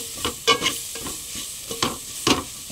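A spatula scrapes and stirs through sizzling mutton in a pan, with irregular strokes over a continuous close-up frying hiss.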